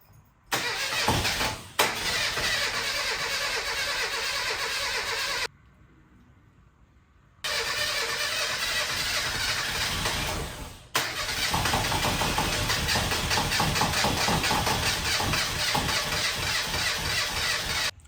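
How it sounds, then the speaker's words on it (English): A Reliant Robin with a possible timing fault cranks and starts to fire in loud, close bursts, two long stretches of churning engine noise split by a brief silent gap, each starting abruptly. "you might have heard the car actually started to fire."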